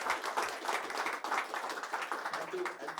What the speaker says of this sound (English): put your hands together for a thunderous applause to all our